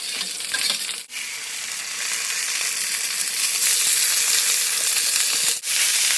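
Curd cheese steaks frying in ghee give a loud, steady sizzle and crackle, briefly dipping twice as the pan is jostled, with no voices over it.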